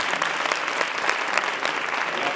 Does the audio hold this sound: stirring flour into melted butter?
no